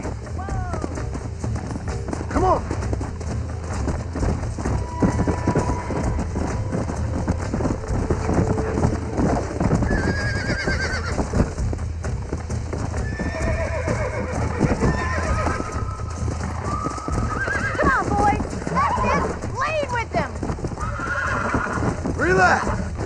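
In the video game Red Dead Redemption, a horse being broken neighs and whinnies repeatedly while its hooves pound and scramble, close and busy, with people shouting and talking throughout over a steady background rumble.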